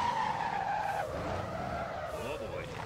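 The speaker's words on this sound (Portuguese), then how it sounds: "Ai, o meu carro desliza muito." A car in the driving game Motor Town skids and slides with loud tire squeal and engine roar, the pitch sweeping downward as it loses grip, while a person talks over it.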